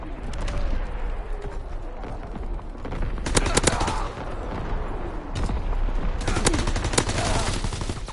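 Light machine guns fire in a WW2 shooter game in sharp rattling bursts, several clustered volleys over a rumbling battlefield background, close and loud.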